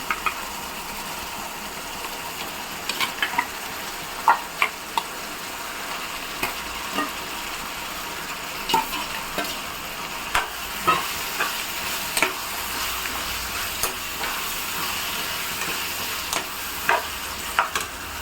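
A quarter kilo of washed chicken sizzles loudly and steadily in a hot pot for rose-style chicken biryani. A spoon stirs it with scattered sharp scrapes and clinks.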